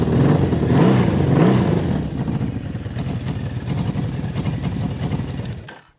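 A Suzuki GS650GL motorcycle engine runs steadily up close after choke adjustment, with a loud, even mid-pitched idle that swells slightly early on and then cuts off abruptly at the end, with no talk.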